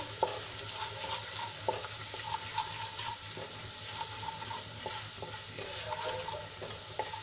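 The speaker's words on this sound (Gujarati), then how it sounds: "ચણાનો લોટ થોડોક સંતળાઈ ગયો છે" Gram flour sautéing in a pan over ginger, garlic and chili paste, a steady close sizzle broken by soft, scattered scrapes and taps of a spoon stirring.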